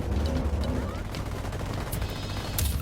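Rebels and cartel fighters trade shots in Ghost Recon Wildlands, heard as steady distant gunfire with a few sharper close cracks over a constant rumble.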